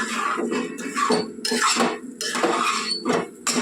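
A utensil scrapes and knocks against a pan while jaggery sheera made with semolina is stirred. The scraping strokes and metallic clinks come up close, steady and in bursts, with no talking.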